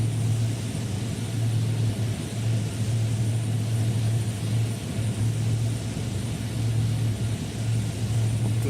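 A military jet in a DCS flight simulation takes off, its engine roaring as a steady, loud, broadband rumble with a strong low drone that lasts the whole time and has no talk over it.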